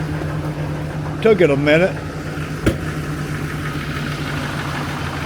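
A truck engine idles steadily after a cold start in snowy weather, a constant low rumble throughout, with a person briefly speaking over it and a single knock partway through.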